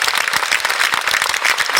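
An audience at a concert at Le Liberté in Rennes applauds a musician, producing dense, steady clapping that fills the hall without pause.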